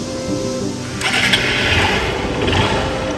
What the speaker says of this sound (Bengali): আমি একটু ইঞ্জিন সাউন্ড আপনাদের শোনানোর চেষ্টা করি আগে।